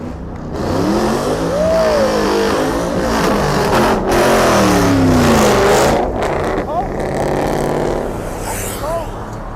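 A car does a burnout at a car meet, its engine revving hard and rising and falling in pitch, loud and close under shouting voices, then easing off toward the end.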